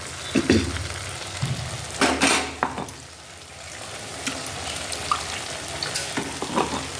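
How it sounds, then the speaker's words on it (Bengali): Tomato paste frying in spiced oil in a pan, with a steady sizzle broken by sharp stirring scrapes and clinks, heard close with no talk. "এই তেলটা ছেড়ে যাওয়ার পর আমি দিয়ে দিলাম এই পেস্ট করে রাখা টমেটোটা।"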